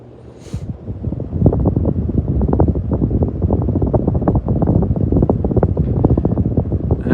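A Lasko by Sanyo 48-inch ceiling fan runs on high speed, pushing a loud, close, steady rush of air that buffets the microphone with low fluttering rumble, after a brief quieter start.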